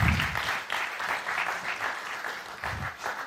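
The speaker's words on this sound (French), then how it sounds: "On vous applaudit." A studio audience at a French television quiz show claps in a burst of applause. It swells and ebbs in waves, with one short dip partway through and no one speaking over it.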